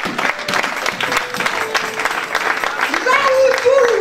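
A church congregation applauds and cheers in a continuous, dense burst of clapping that fills the space, with voices mixed in and a higher shout or cry rising near the end.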